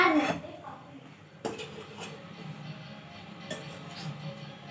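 Dough being stirred in a pan with a utensil, with soft scraping and clinking against the metal, moderately close and steady, under faint background talk.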